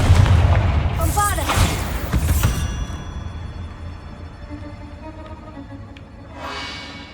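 A Confringo explosive spell booms in Hogwarts Legacy, a loud blast up front that settles into a rumbling, crackling tail with game sound effects, followed by a smaller burst near the end.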